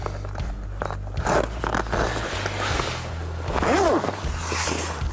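Fabric zipper on a tent-style wall being drawn across, a rasping zip sound among rustling and handling noises, near and moderately quiet, with no talking.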